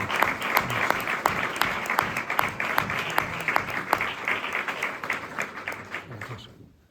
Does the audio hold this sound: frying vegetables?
no